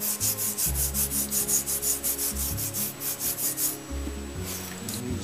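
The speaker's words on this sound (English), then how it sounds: "I'm not scrubbing hard at all. Just wiping on it. I'm using a 3M pad. Scotch Brite." A 3M Scotch-Brite pad is rubbed across an old horn in quick, even back-and-forth strokes, a close, rhythmic scratchy swishing that keeps a regular beat and then softens and slows near the end.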